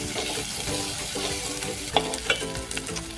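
Chopped onion sautéing in a pan for Marathi ghol bhaji, a steady close sizzle and crackle with a couple of sharp spatula clinks as it is stirred.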